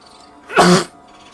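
A single loud, close sneeze bursting out in the middle of a quiet tabletop role-playing session, with no talk during it.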